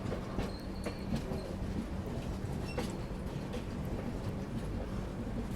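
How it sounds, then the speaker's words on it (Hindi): The Magadh Express rolls slowly into Ghaziabad Junction, with a steady rumble of railcars, rhythmic clickety-clack of wheels over joints and faint squeals, heard from inside the train at moderate volume. "धीमी रफ्तार में अब गाजियाबाद जंक्शन में एंट्री हो रही है।"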